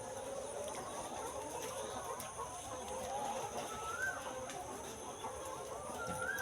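Laying hens on a layer poultry farm cluck faintly and continuously in the distance, with scattered calls blending into a steady background hum.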